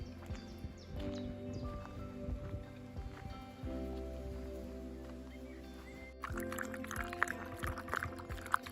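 Water pours and splashes steadily for several seconds, close by, with faint rustling and a soft outdoor background.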